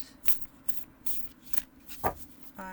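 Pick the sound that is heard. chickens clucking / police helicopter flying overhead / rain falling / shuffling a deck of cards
shuffling a deck of cards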